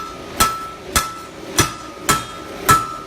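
Five evenly spaced, sharp metal hammer strikes ring out as a 20mm square metal bar is flattened on an anvil in a workshop, each blow clear and close with a brief ringing tone, no talk.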